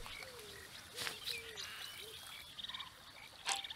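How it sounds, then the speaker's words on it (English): Frog croaking in the wildlife game Alba: A Wildlife Adventure, a few faint low calls scattered through quiet ambience with light bird chirps, plus a brief louder burst near the end. "It's like a frog noise."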